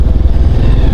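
A Honda Verza motorcycle fitted with a fat bar handlebar riding along a damaged road in Lampung, its engine a loud, close, continuous mid-pitched drone with clattering bumps, no talking.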